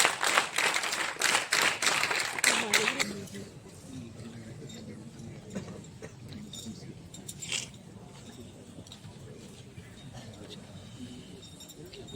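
Audience at a cadet award ceremony gives the NCC clap, a burst of rhythmic group clapping for about three seconds that breaks off into a quieter hall with murmuring voices.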